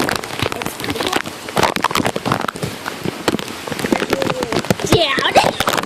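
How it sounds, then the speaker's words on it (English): Heavy rain pours down on a rainy day, a dense, steady hiss of drops spattering on surfaces close by, with a person talking briefly over the downpour. "It's raining so hard."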